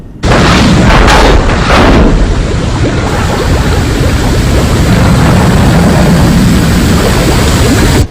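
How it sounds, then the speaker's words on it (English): Rocket clamps fire in a loud burst that turns into an unbroken roar of noise. It stays close and overwhelming for about eight seconds, with a few heavier thumps near the start. "Firing rocket clamps."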